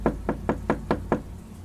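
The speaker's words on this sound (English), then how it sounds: "I was woken up at 6 a.m. to someone knocking at my door." Six evenly spaced knocks on a door, close and firm, rap in a quick steady rhythm before trailing into quiet.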